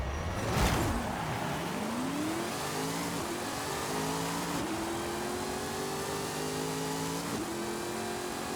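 A modified race car in Forza Horizon 5, driven with a manual gearbox and clutch, revs hard and climbs through gears with rising engine pitch and upshift breaks, loud and continuous with no talk.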